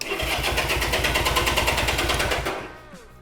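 A Honda CB200T motorcycle engine, on choke, cranking in a steady rapid rhythm for a few seconds, loud and close, then cutting out without catching.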